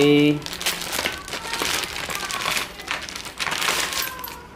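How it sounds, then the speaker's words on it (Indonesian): Plastic packaging crinkles and rustles continuously while a car battery bracket for a KIA Picanto is unboxed, close and fairly loud, in dense crackly bursts throughout with a brief tone at the start. "Oke, saya unboxing dulu nih ya."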